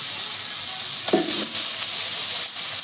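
Chicken frying in a pan with onion, ginger, garlic and spices, a steady loud sizzle throughout with a brief scrape of stirring near the middle.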